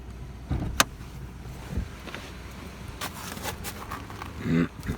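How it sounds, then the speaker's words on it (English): A 1983 Chrysler Cordoba idles smoothly with the hood open, giving a steady low hum close by, broken by a few sharp clicks and handling knocks, with faint voices in the background. "listen to how smooth it runs"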